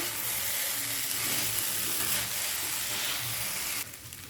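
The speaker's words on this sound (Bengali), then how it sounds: "নুডলসটা দেওয়ার পর খুব ভালোভাবে সবজি ডিমের সাথে এটা ভেজে নিতে হবে" Noodles frying in a pan with vegetables and egg for a vegetable egg noodle dish, giving a steady loud sizzle and hiss with stirring scrapes throughout, which drops off sharply near the end.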